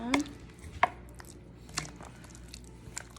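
A creamy potato salad is mixed in a bowl, giving a few soft wet squishes and light clacks spaced across a quiet background with no talking.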